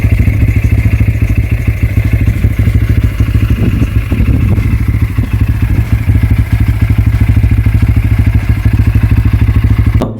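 A Bajaj Pulsar 160 motorcycle gives off a close, steady, sporty exhaust note with a fast, even pulsing throb that runs for about ten seconds, loud and alone with no talking.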